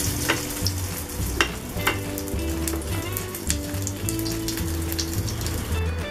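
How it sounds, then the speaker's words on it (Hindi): Breaded veg burger tikkis shallow fry in oil in a pan, giving a steady crackling sizzle with scattered pops and occasional scraping, close and continuous with no talk. "अब इसको हम सेलो फ्राई करेंगे।"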